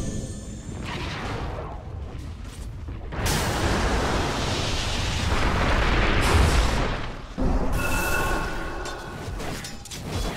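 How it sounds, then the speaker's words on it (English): A Dota 2 tower comes under attack, with continuous rumbling explosions and booming impacts that swell louder midway, then drop briefly before the roar resumes. "Dire's middle tower is under attack"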